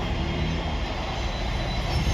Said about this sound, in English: that line where the freight train's going is actually the Didcot avoiding line